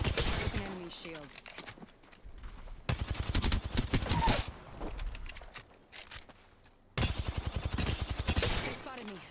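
Bursts of rapid gunfire from an Apex Legends firefight, with dense volleys in the first two seconds, again mid-clip, and a loud sustained stretch near the end, close and loud with broken pauses between.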